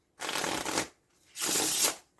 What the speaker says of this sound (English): the best shuffle is not this